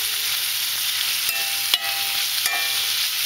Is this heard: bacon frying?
yes